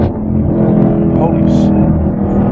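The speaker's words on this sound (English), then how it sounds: "you can do a second gear pull from 60" A 2017 Chevrolet Camaro SS 1LE V8 pulls hard in second gear from about 60 mph, its loud, deep engine roar steady and close throughout as heard from inside the car, with voices speaking over it.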